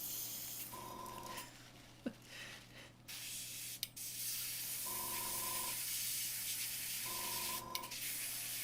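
Airbrush spraying paint out while its paint pot is cleaned between colours on Pastelmat, a continuous soft hiss broken by three short buzzing pulses and a few sharp clicks, close and fairly quiet.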